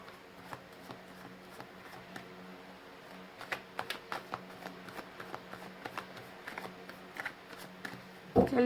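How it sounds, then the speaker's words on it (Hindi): A deck of tarot cards is shuffled close up, with a steady run of soft riffling flicks and slaps that speeds up in the middle and stops in a brief handling noise at the end. "मैंने कर लिए कार्ड्स की सफलिंग"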